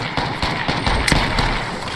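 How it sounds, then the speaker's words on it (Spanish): Shotgun blast in the video game Apex Legends, a sharp burst among several quick gunfire cracks and game effects, with no clear speech over it. "Le metí un escopetazo."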